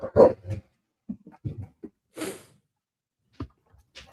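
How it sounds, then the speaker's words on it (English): A dog barks and whimpers in a home during casual conversation, giving a few short, scattered yelps and whines separated by pauses, fairly faint in the background. "My dog's getting riled up over now."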